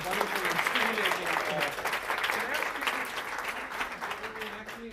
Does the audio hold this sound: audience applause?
yes